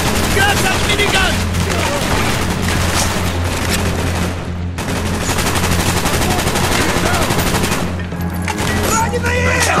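Sustained rapid minigun fire in the Call of Duty: Black Ops Vorkuta battle, loud and continuous with a brief dip midway, layered with other gunfire, booms and shouting voices.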